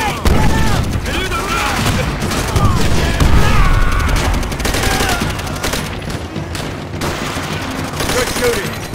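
A dense, continuous battlefield fusillade in Call of Duty: World at War, with overlapping rifle and machine-gun fire at steady volume and voices shouting among the shots.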